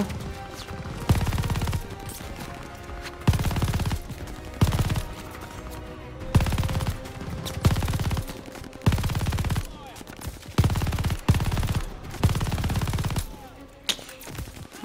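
Rapid automatic gunfire from the PS5 game Call of Duty: Vanguard, loud bursts repeating every second or two with short gaps, a few single cracks mixed in, over a steady game background.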